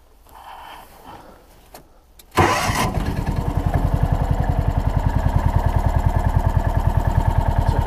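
Faint background rustle, then the rear-mounted engine of a John Deere Gator 4x2 utility vehicle with continuously variable transmission cranks and starts abruptly, settling into a loud, steady chugging idle with a regular pulsing rhythm.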